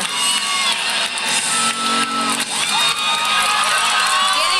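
A gymnastics crowd at a women's Air Force vs Clemson meet cheers loudly and continuously, a dense roar of shouts, whoops and high voices filling the arena with no break.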